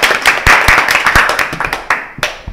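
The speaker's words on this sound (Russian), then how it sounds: "Аплодисменты игрокам." A short burst of applause from a small group of players at a Mafia game championship: brisk, sharp hand claps close by that thin out and fade toward the end.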